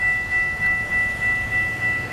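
A northbound Florida East Coast Railway freight train passes on a Friday night, close and loud: a steady heavy rumble with rhythmic wheel clatter and a sustained tonal whine running throughout.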